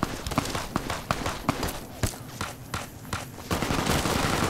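Gunfire in Fallout: New Vegas, a quick run of sharp irregular shots, some in rapid bursts, close and fairly loud over a busy background.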